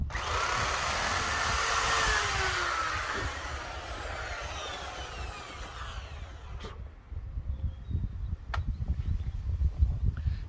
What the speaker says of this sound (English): So I'm going to only need to screw 2 holes into the wall.